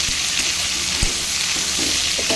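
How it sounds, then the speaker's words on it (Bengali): Taro stolons fry gently over low heat with a mustard seed tempering, making a steady close sizzle punctuated by a few soft spatula knocks and stirring scrapes. "কচুরলতি সরিষা ফোড়ন দিয়ে ভাজা"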